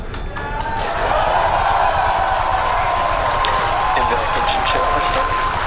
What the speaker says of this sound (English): you can see and heard it by the incredible excitement within the crowd behind me